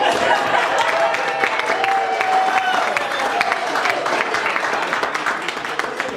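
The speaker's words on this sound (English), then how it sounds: "You can clap, you can clap" Wedding guests break into steady clapping during a reception toast for a couple, a broad even patter that holds throughout with some voices mixed in.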